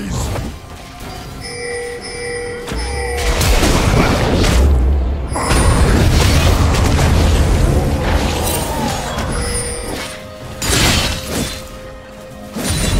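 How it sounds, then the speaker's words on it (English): A turret is destroyed in League of Legends, heard as a heavy game boom and crash with shattering debris over layered game effects and chimes, loud and sustained for several seconds. "Blue team's turret has been destroyed."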